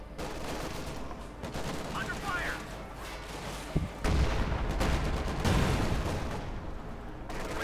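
In Company of Heroes 2, a StuG assault gun fires amid battle noise, with heavy booming shots and scattered gunfire rumbling under a caster's commentary.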